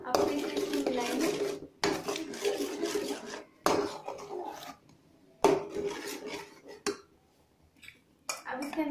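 Matar paneer being mixed in a pan with a spoon, bursts of close scraping and rubbing strokes separated by short silent pauses, with a few metallic knocks against the pan.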